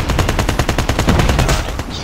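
A gold AK-47 fires in Call of Duty Mobile, a loud, continuous automatic burst of rapid, evenly spaced shots heard up close for about two seconds.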